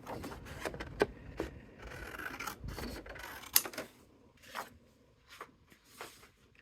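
Paper, a supplied backing sheet meant for stencil work, snipped by hand at close range, with a few soft crisp cuts and rustles at irregular intervals in a quiet room.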